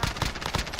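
Rapid bursts of gunfire strike the player in the Warzone battle royale video game, a quick run of sharp cracks with a steady rhythm, loud and close, with no talk over them.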